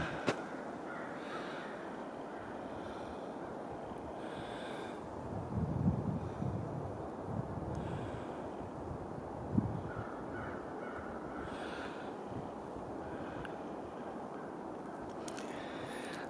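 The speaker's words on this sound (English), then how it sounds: "ravens, they're out like crazy." Crows or ravens calling outdoors, a few faint caws rising around six and ten seconds over steady wind noise.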